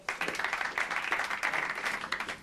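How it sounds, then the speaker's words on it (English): Studio audience applause on a British TV entertainment show, steady dense clapping throughout, close and fairly loud. "Give them a big round of applause."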